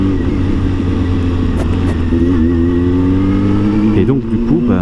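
A freshly serviced motorbike rides steadily along a valley road, its engine a loud, continuous mid-pitched drone that rises gradually as it accelerates, with a voice talking over it.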